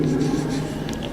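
Chalk or marker scratching on a classroom board during a chemistry lesson, a short run of soft strokes against a low background hum.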